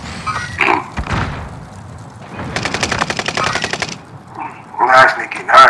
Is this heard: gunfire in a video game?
yes